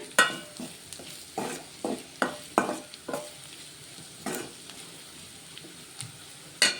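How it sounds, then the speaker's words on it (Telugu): Fenugreek leaves and carrot fry in a pan and are tossed with a spoon, producing irregular loud scraping stirs over a low, steady sizzle, close up and with no one speaking. "మెంతి కూర కూడా చక్కగా ఫ్రై అయిపోతుంది"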